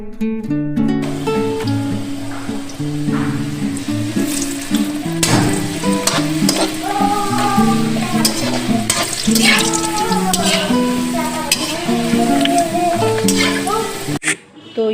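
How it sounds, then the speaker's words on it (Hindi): French fries cooking in oil on a home stove, a loud continuous crackling sizzle lasting throughout, overlaid with background music and occasional clatter. "तो यहाँ पर मैंने फ्रेंच फ्राइज जो है उसको फ्राई कर लिया है"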